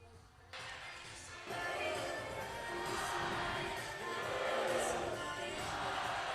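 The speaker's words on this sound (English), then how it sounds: "The players currently leading the crowd in a blue-white chant." A packed arena crowd chants "blue-white" at a college volleyball regional final at Memorial Coliseum, led by the players. The massed voices swell into a loud, sustained roar that keeps building across the clip.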